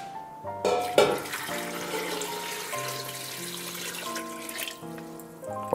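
Cold tap water poured into a pot holding drained green walnuts, a continuous close rushing and splashing that shifts in pitch as the pot fills, with no talk.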